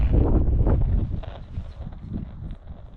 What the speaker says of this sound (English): There's so much wind, I can hardly hear that.